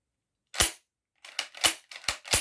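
Ermox XA4 shotgun fired at a shooting range: a sharp single report, a pause, then four quick loud blasts in a rough rhythm, close and clear with no talk.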